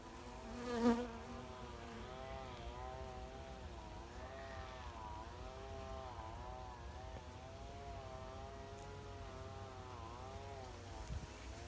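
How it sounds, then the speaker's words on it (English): Bees and flies buzz steadily among pomegranate blossoms in a California backyard food forest, a continuous wavering drone close by, with a brief louder swell near the start. "There's bees everywhere."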